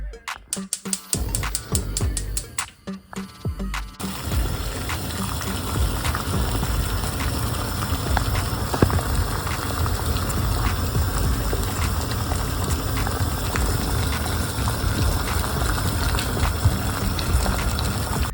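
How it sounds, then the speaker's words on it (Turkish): Water heats to a boil in a teapot, a dense steady bubbling and hiss preceded by a few seconds of clattering handling, continuous and fairly close with no talk. "Şimdi bu suyu kaynatacağım."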